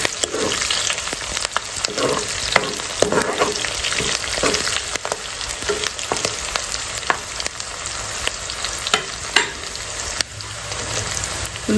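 Curry leaves and green chillies fry in hot oil with a steady loud sizzle, broken by repeated scraping stirs of a spoon against the pan, and no one speaks.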